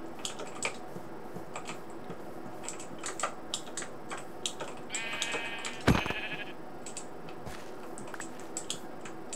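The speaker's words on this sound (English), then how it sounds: "we got ourselves a white sheep." A white sheep in the video game Minecraft bleats once midway, a short wavering cry over a steady run of clicky keyboard taps and soft in-game noise, with no talk.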